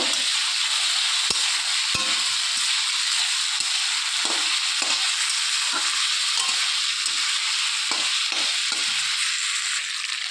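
Boiled potatoes and spices sauté together in a pan for an egg curry, a steady loud sizzle running throughout with a few sharp spoon scrapes and knocks as the mixture is stirred.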